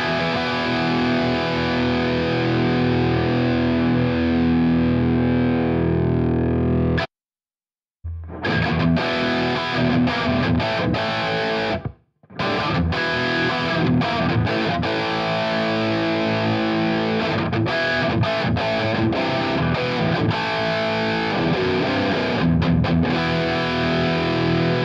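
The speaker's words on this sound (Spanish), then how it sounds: "Voy a agregar un poco de ambiente al sonido con la perilla de Dry Wet." Distorted electric guitar played through a Two Notes Torpedo Studio with the Studio B room reverb added, loud and continuous with two brief dropouts, no talk.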